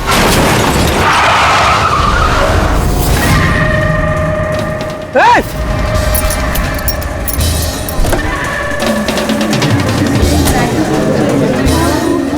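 A car skids with one sharp rising tire screech partway through, set against loud, dense continuous noise from a crime-drama street scene.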